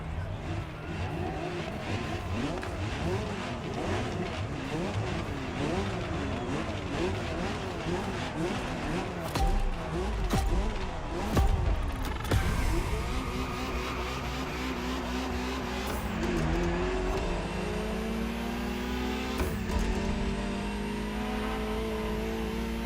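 A Ferrari GTO supercar driven in The Crew Motorfest, engine revving and shifting through gears with tire squeals, running steadily under continuous talk.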